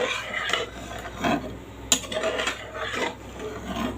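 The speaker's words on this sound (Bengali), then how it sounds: "নেড়ে চেড়ে দেবো মাছগুলোকে" Magur catfish stirred in a pan with fried spice powders such as cumin: close, quiet scraping and rasping strokes in irregular bursts, with one sharper knock of utensil on pan.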